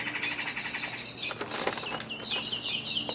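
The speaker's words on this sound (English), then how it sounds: "There's a crazy sounding bird up there." Near a chicken coop, an unusual-sounding bird calls from overhead in a run of high, bright chirps and trills over faint background noise, with a sustained shrill call toward the end.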